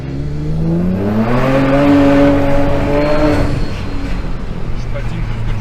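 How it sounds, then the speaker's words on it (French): An Opel Vectra OPC estate tuned to stage 3 with 400+ horsepower accelerates hard with wheelspin. The engine note climbs loudly and steadily, with voices talking over it. "Je patine plus qu'autre chose."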